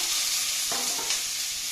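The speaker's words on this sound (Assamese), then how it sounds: "ভাজি ল'ম, আধা ভাজি কৰি ল'ম।" Continuous hissing sizzle of pointed gourd frying in oil, close up, with a couple of soft stirring knocks midway.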